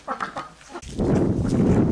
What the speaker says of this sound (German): Ein ganz ein lieber Hahn.